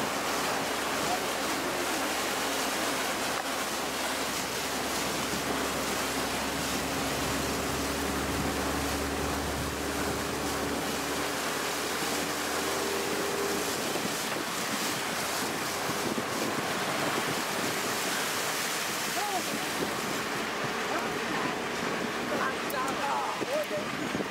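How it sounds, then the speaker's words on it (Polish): Water flowing across and eroding a dirt road in rural Tanzania, a steady broadband rush close to the microphone, with wind buffeting and a low rumble fading partway through. "Woda przepływa przez drogę, niszcząc ją."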